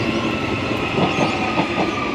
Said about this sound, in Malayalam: അതാ ട്രെയിൻ പോകുന്നുണ്ട്. ഇത് ബാനിയോ സ്റ്റേഷനിലോട്ടുള്ള ട്രെയിനാണ്.